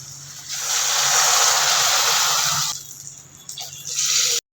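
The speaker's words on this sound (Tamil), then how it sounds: "அதுக்கு நான் ஒரு 2 கப் தண்ணி சேர்த்துக்க போகிறேன்." Water poured into a pot or pan for cooking a quick healthy breakfast, a steady close hissing rush that runs for about two seconds, then thins into a weaker, broken trickle before stopping.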